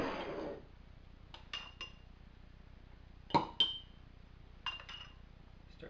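A metal spoon clinks against a glass holding chocolate mousse, giving a few sharp, bright taps spread out and close by, with quiet room tone between them.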